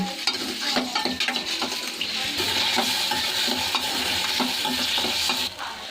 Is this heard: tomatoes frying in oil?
yes